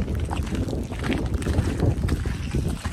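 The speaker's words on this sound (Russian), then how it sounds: "Но здесь прям еще ветер есть." Wind blows across high mountain terrain near Mount Kazbek, a steady gusting rush buffeting the microphone with no talk over it.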